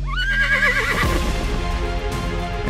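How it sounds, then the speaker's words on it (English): A white horse lets out a loud, close whinny, its shrill, wavering cry sliding down into a rough, snorting fade. "And I saw, and behold, a white horse."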